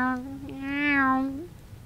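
A single drawn-out, meow-like cry rises and falls over about a second and a half in the Skyrim video game, fairly close and clear against a quiet background.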